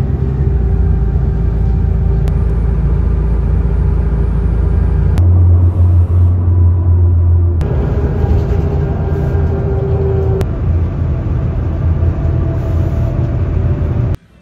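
A bus travelling toward Avalon Airport near Melbourne rumbles continuously with a deep engine drone from the inside, the low tone stepping up and down through gear changes and holding steady throughout.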